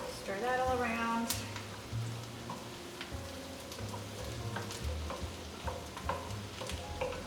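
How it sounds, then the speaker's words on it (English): Rutabaga soup is stirred in a pot, with soft repeated scraping and a faint simmering sizzle at low volume, while a voice speaks briefly early on. "Stir that all around."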